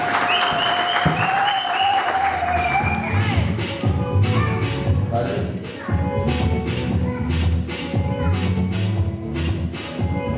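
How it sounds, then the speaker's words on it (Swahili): A church congregation gives Jesus a long, loud burst of applause, dense clapping that runs the whole time with some shuffling and crowd noise mixed in. "Pe Yesu makofi"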